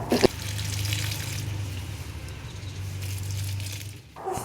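A bucket of water drained from an air conditioner is poured over potted plants at home, a steady continuous gush of liquid running for several seconds, close and moderately loud, with no talk.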